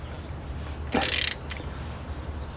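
Bolts on a water pump being snugged on a Dodge Ram 2500 with a 5.7L Hemi, a quick burst of ratchet clicks close up, then a single faint click, over quiet background.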